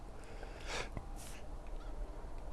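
Poultry at a chicken coop in Farming Simulator 25, a couple of short honking, goose-like squawks over a steady bed of ambient farm noise, with no talking.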